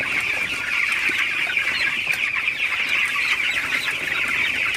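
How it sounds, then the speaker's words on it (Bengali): Broiler chickens at nineteen days old cluck steadily in a poultry house as they are chased toward their feed, a dense, continuous flock chatter with no talking. "মুরগিগুলোকে একটু তাড়াই দিতেছি যাতে একটু খাবার খাই"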